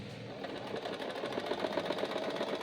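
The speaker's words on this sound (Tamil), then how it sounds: "நீங்கள் பேக்கில் தள்ளிட்டு ஸ்டிச் பண்ண ஆரம்பிச்சிடலாம்." Sewing machine stitching fabric, a fast even mechanical whir with rapid rhythmic needle clatter, close and steady throughout.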